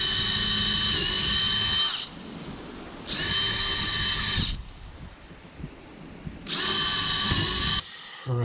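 A power drill bores holes in an Airstream trailer outdoors in wind, three loud whining bursts of a couple of seconds each separated by gusty breezy pauses.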